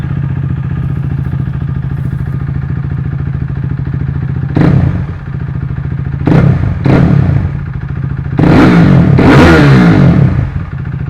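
A KTM RC390 single-cylinder motorcycle with an Akrapovič exhaust idles with a steady throb, then gets three sharp throttle blips, the last a longer, louder rev that falls back to idle.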